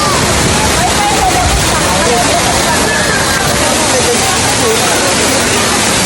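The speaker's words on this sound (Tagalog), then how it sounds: "So ito yung Daranac Falls dito sa Tanay, Rizal." Daranak Falls, a waterfall in Tanay, Rizal, roars as a steady, loud broadband rush of falling water that fills the whole stretch, with faint crowd chatter blending into the torrent.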